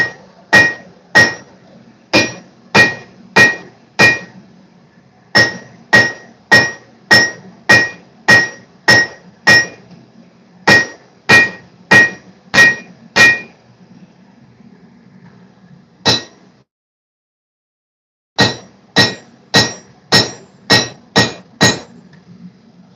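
Hand hammering on 20-layer Damascus steel: sharp ringing hammer strikes fall in steady runs of several blows, split by short pauses, with one isolated hit before a final burst, loud and close.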